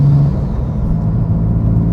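A tuned 650 hp 2016 BMW M3 with a manual gearbox, driven gently and short shifted: a loud, steady low engine rumble heard from inside the car.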